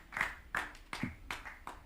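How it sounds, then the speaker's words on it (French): A church congregation at a Sunday service claps for Jesus, about five distinct, evenly spaced claps in a slow rhythm, fairly faint and somewhat distant with room reverberation. "Applaudissons pour Jésus."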